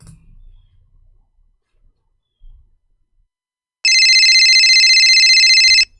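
An outgoing phone call's ringing tone sounds as one loud, steady electronic burst lasting about two seconds after near silence.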